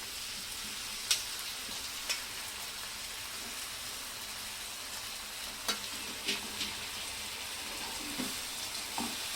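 Jawla fish sautéing in a pan, a steady quiet sizzle with occasional light clicks of stirring and scraping, no one speaking.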